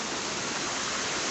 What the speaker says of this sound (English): you can see the sound of the river